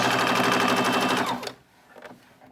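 A sewing machine stitches a practice line with back stitching, running as a loud, steady, rapid mechanical whir for about a second and a half before stopping abruptly, leaving only faint handling sounds.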